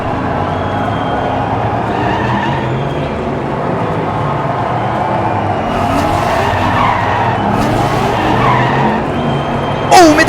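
Diecast toy race cars (Group 6 models including a Porsche, Aston Martin, Corvette and Ford) speed around a miniature track. A loud, continuous rolling whirr and rumble holds steady, with brief rushes and a sharp squeak at the very end.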